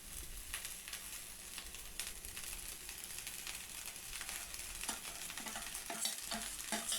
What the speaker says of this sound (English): Stir fry this for 2 to 3 minutes